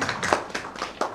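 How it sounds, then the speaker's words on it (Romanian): A few separate, distinct claps at a library week event in Adjud, spaced roughly every quarter second, sounding like a small number of people rather than a full crowd. "Trebuie să primim cu aplauze, vă rog frumos"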